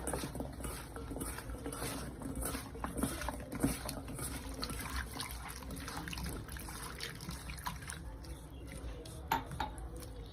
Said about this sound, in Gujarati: ફરીથી પાણી નાખીને ધોઈ લઈશું છેલ્લી વાર